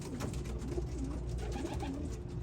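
A racing pigeon hen coos softly nearby in a loft, a few low throaty rolling coos repeating over a faint background hum.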